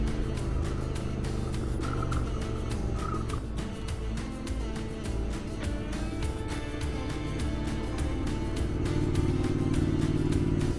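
A Honda NC700 motorcycle out on a leisurely weekend ride, its engine running as a steady, continuous drone blended with road and wind noise throughout.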